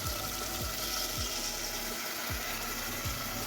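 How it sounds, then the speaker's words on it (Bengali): Hot water pours into a bucket for a bath in a home kitchen setting, a steady, close splashing rush with no voices over it. "গোসল করবো সেজন্য একটু গরম পানি দিচ্ছি।"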